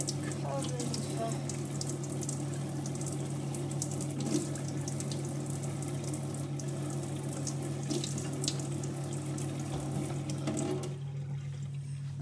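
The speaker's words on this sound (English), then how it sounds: "I'm just gonna wash all of this to make sure it's all nice and clean." A kitchen tap runs steadily into a sink as salad vegetables are washed for a hamster, the stream a constant close splash with small shifts as the produce is moved, ending with a brief change in tone.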